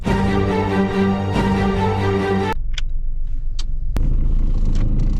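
Car engine rumbling loud and steady while the car shakes, then cutting to a quieter low drone with a couple of sharp clicks.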